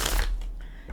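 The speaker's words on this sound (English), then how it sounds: "I'm trying to shuffle quiet." Tarot cards are riffled and shuffled close to a microphone, giving a brief, dense papery rustle that fades slightly toward the end.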